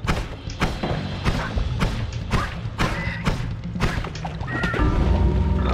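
Bombs going off in the pixel-art game Noita: a rapid run of a dozen or so punchy, thudding booms in quick succession, loud and close, ending in a denser rumble.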